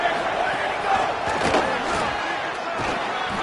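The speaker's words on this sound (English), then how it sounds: "The Red Raider crowd rising to the occasion to help its defense on 3rd down" Texas Tech Red Raider football crowd roaring on a third down, a sustained loud wash of cheering and noise from a stadium, steady throughout with a few swells.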